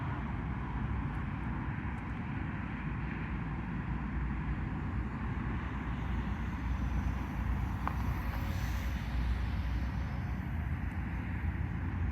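A Volantex 500 Cub or TrainStar Stunt 500 RC model airplane drones steadily overhead at a distance, its engine hum continuous and fairly faint against outdoor wind noise.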